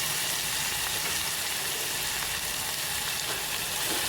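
Chopped onion and green chili sizzle steadily in hot oil in a kadai, a loud continuous close-up hiss with no pauses.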